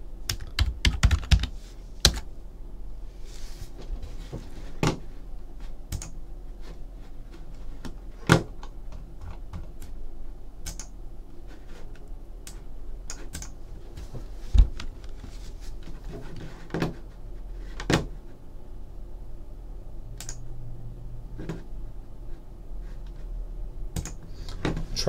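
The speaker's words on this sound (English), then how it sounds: "go to random.org and type in every team" Typing on a computer keyboard, close clicks and clacks of keys coming in scattered bursts with a few heavier key strikes over a quiet background hum.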